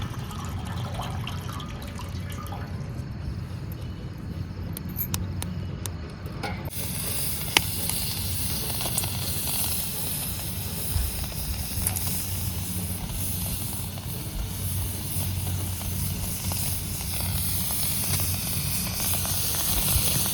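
Wet washed potatoes sizzling on a hot iron griddle, a continuous hissing crackle with scattered spitting pops that carries on steadily for about twenty seconds, close and moderately loud, with no talk.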